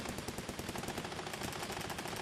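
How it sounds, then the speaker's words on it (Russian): Several machine guns firing together in a rapid dense rattle, a continuous overlapping stream of sharp shots with no gaps, fairly faint and without any talk. "Прям в унисон там 3 или 4 автомата начало работать"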